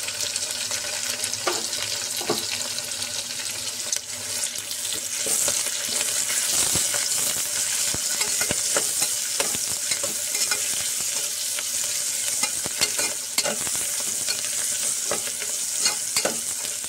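Curry leaves and crushed ginger and garlic fry in hot oil in a pan for gongura biryani, a steady close sizzle with occasional stirring scrapes and clinks throughout, no talking.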